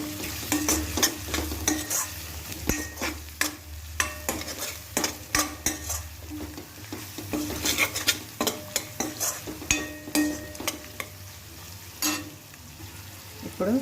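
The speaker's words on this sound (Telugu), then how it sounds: "ఇప్పుడు అర టీ స్పూన్ పసుపు ఇలా వేసి ఇప్పుడు కలుపుకోండి." A spoon stirs cabbage tomato curry with turmeric in a pan, scraping in irregular repeated strokes over a steady low sizzle of frying, with no talking.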